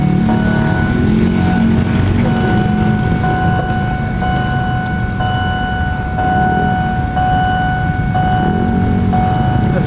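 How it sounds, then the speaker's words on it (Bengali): Bangkok Skytrain passing overhead, a loud steady mechanical drone with humming electric tones that shift in pitch. "ওইটা হচ্ছে স্কাই ট্রেন, এই যে উপর দিয়ে, এটা দিয়ে স্কাই ট্রেন গেছে।"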